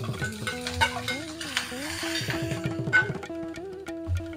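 Ginger and curry leaves frying in hot oil for a tempering, with cashews and green chilies in the pan, give a busy sizzle broken by stirring scrapes and a few utensil clinks under background music.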